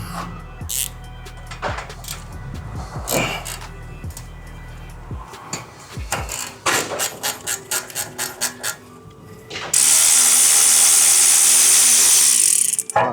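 A ratchet wrench removes the top bolt on the front brake of a 2010–2024 Toyota 4Runner 4.0L V6. Close, rapid ratcheting clicks come in bursts, followed by a loud steady mechanical whir near the end.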